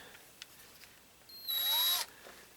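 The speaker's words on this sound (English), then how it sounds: "Now what I need to do is drill my holes." A power drill spins up for about half a second, boring a hole for a Traxxas UDR sway bar; a short, high whine rising and falling, loud and close amid quiet surroundings.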